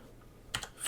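A short burst of keys tapped on a computer keyboard after a quiet pause, a few close, crisp clicks in quick succession with no voices.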